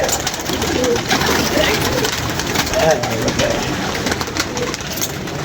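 Pigeons coo softly in a low, throaty murmur beneath a steady wash of background noise, with people talking nearby.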